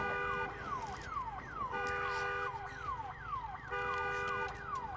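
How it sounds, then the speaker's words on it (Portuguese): A car alarm in the Days Gone video game blares in a looping pattern of repeated descending whoops broken by steady tones, loud and continuous for the whole stretch with no talking over it. "Estava o carro de trás com o alarme ligado, vocês viram?"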